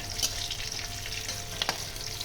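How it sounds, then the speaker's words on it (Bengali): Cut okra frying in white oil, a steady close sizzle with a couple of brief scraping clicks from the spatula, quiet and alone without voices. "এবার আমি এর মধ্যে দেব কেটে রাখা ভেন্ডিটা"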